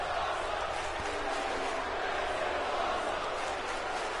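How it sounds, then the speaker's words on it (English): A professional wrestling crowd roars in a continuous, dense wall of cheering and shouting, loud and sustained throughout with no pauses. "You hear the crowd coming alive"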